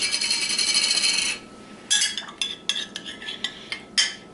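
A metal spoon scrapes and clinks against a quarter-cup measure while pickles are scooped in for tartar sauce, first a sustained scraping, then a string of sharp, close clinks.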